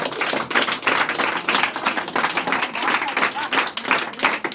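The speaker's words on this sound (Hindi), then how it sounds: "तो उनके लिए ताली बजा दीजिए।" An audience at a Hindi spiritual talk claps together in a dense, lively burst. The crowded hand-slaps run steadily throughout with a faint murmur of voices underneath.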